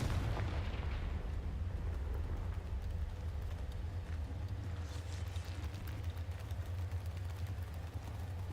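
A Confringo explosion spell in the Hogwarts game rumbles as a deep, sustained blast with a heavy low boom that rolls on steadily, with faint crackling debris above it.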